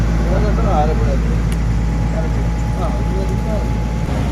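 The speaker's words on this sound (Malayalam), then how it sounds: "അങ്ങനെ നമ്മുടെ ബോട്ട് സ്റ്റാർട്ടായിട്ടുണ്ട്" A passenger boat's steady, loud engine drone runs throughout on the Kottayam to Alappuzha backwaters, with low rumbling, and a voice speaks faintly over the mechanical noise.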